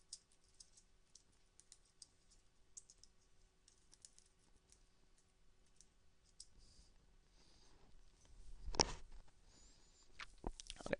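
Typing on a computer keyboard: quick, irregular clicks and taps, close and fairly quiet, growing into louder bursts of keystrokes toward the end, with no voices.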